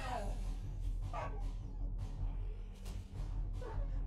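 A dog in the survival game 7 Days to Die gives several short barks and yips spread through the moment, moderately close, over a low ambient rumble with a faint voice in the background.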